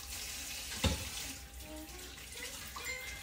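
Kamias fruits are washed one by one under running tap water, a faint steady splash with a single sharp knock partway through.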